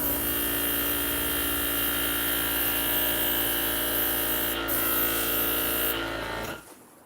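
Steady airbrush hiss blowing out acrylic paint during acrylic pouring, a continuous close whirring spray that holds for about six seconds and then cuts off sharply, with no talk over it.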